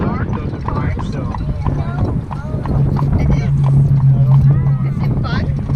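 Horse hooves clip-clop steadily as the horse pulls an Amish buggy along a road in Lancaster County, Pennsylvania, a close rhythmic clatter running under people chatting throughout.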